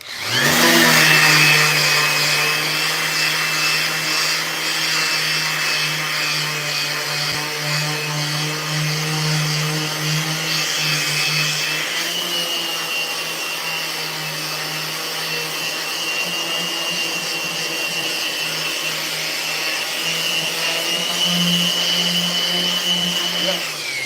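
A power sander runs steadily over a bird's-eye veneer skateboard deck, producing a loud, continuous whine with a constant tone that shifts slightly partway through.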